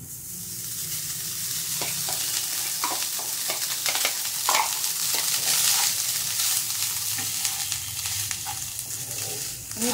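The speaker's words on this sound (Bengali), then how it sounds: "আমি একটা মিডিয়াম ফ্লেমে ভাজছি।" Garlic rice fries with butter and salt in a pan over a medium flame, a loud, dense sizzle lasting throughout with scattered spatula stirs and scrapes, close and without speech.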